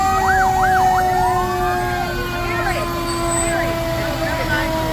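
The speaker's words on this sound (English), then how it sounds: "Brock decided to bring the boys in the fire truck today" Fire truck siren wailing up and down during a 4th of July parade, loud and close with rising and falling sweeps over a rumbling engine, alongside other siren tones and crowd noise.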